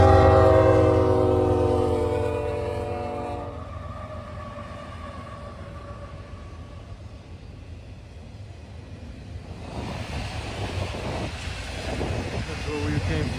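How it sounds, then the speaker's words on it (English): Norfolk Southern freight train locomotives rumble past at track speed with a loud, steady diesel roar and wheel noise. A horn blast fades in the first few seconds, then the clatter of passing cars continues. "It was awesome to see this train, see the speed, and hear the engines rumble."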